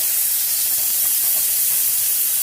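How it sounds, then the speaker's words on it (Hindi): Chicken frying in a pan with a little oil, a steady close sizzling hiss that holds throughout with no pauses. "चिकन जो है अच्छे से ग्रिल्ड हो गए हैं हल्के से ऑयल में"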